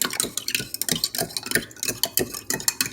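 A spoon stirs a sugared mixture in a bowl, a rapid run of short scraping and clicking strokes, close and fairly quiet, with no voices.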